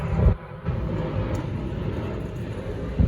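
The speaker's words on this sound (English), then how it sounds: "there's another plane flying over" An airplane passes overhead, its broad, steady roar filling the scene at close range and holding level throughout, with a couple of brief thumps near the start and end.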